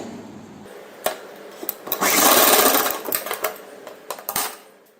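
A sewing machine stitches the edges of a lehenga top in short bursts, with one longer steady run in the middle and clicks between stops. It is close and clear, with no talk.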